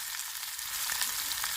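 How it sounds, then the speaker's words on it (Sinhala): Smoked dried fish fries in hot oil in a Sri Lankan kitchen, with a dense, continuous, close sizzle and faint bubbling crackles throughout. "දැන් අපේ දුම් කරවල ටික මම මේකට එකතු කර ගන්න හදන්නේ."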